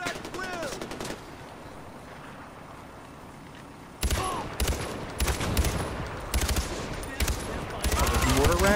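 Gunfire in the video game Far Cry 4: after a quieter stretch, loud rapid bursts of rifle and machine-gun fire break out and continue in rattling volleys, with a voice briefly heard early on.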